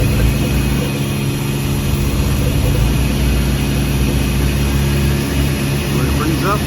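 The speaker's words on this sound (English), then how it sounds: "Started it. It's been a little rough and idle." Volvo Penta 4.3 marine engine idling rough, a loud, constant low rumble with a steady drone that stays close and unbroken throughout, with speech faintly underneath.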